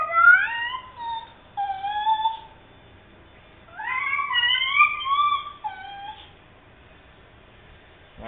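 A cat meows repeatedly in two drawn-out bursts, wavering and plaintive, with a quiet pause between them.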